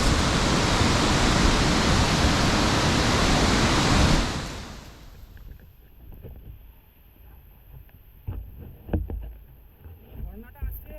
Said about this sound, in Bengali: ঝর্ণাটা আসছে ওই গুহার মধ্যে থেকে